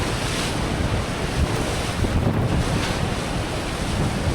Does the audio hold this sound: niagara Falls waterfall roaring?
yes